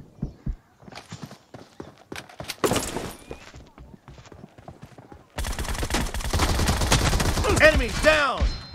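Video game combat sounds: sparse sharp shots and clicks at first, then a dense burst of rapid automatic fire with whining ricochet-like tones, fairly near and loud.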